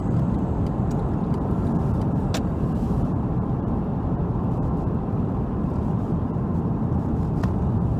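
A Porsche 911 with a PSM fault idles at about 2000 RPM in a steady, dense engine drone that holds at an even level from start to finish, heard close with no voices.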